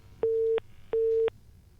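Two identical beeps of a telephone ringback tone on a radio phone-in line, each about a third of a second long, with a short gap between them and nothing else heard.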